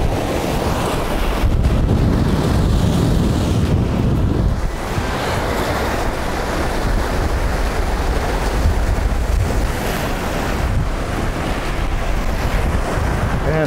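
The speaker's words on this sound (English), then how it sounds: "Man, that wind is blowing." Strong outdoor wind buffeting a microphone, heavy roaring gusts that swell and ease across the whole stretch with no speech; the setting is a seaside fishing spot.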